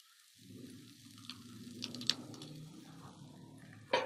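Onion frying in a pan for a potato Spanish omelette, a steady soft sizzle running throughout with a sharper crackle near the end.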